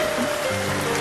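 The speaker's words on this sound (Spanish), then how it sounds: "Estamos llegando al arroyo Polvito." A mountain stream, the Arroyo Polvito, running through snowy woodland on a hiking route, a steady close rush of flowing water with no voices.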